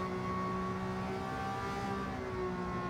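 A 1967 Ferrari P4 330 Le Mans race car in Gran Turismo 7 holds a steady, high-pitched engine note with layered harmonics, a continuous moderate drone that shifts pitch slightly near the end.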